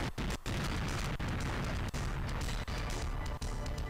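Computers blown up in the GoldenEye video game burst into a dense, continuous roar of explosions, with sharp dips marking repeated blasts.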